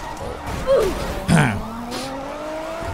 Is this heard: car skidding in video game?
yes